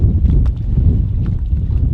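Steady low rumbling wind buffeting the microphone while bass fishing at Stick Marsh, loud and constant throughout with no voices.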